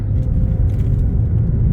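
An MG ZT 180 car drives along, heard from inside as a loud, steady low engine and road rumble without a break.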